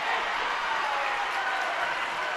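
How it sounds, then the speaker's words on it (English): A basketball crowd at a Vermont high school Division 3 semifinal cheers and applauds in a dense, steady wash of clapping and voices, sustained without a break. "we're going to take a few seconds to listen to the crowd."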